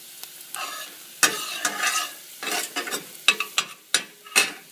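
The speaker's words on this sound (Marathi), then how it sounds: "आधी ऑइलवरती लसूण घातली," Garlic fries in hot oil in a pan, a bright crackling sizzle broken by repeated sharp stirring scrapes and taps, close and fairly loud with no talking.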